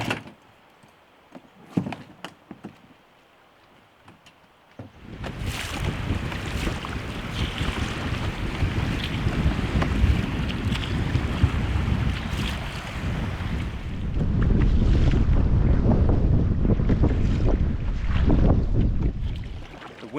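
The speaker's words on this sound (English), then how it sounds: "The wind has changed direction. It's coming from the northwest and it's a struggle this morning." Strong northwest wind gusts across Loch Oich during a canoe trip on the Great Glen Canoe Trail. A few quiet knocks come first, then a loud, close roar of wind buffeting the microphone takes over and grows stronger toward the end.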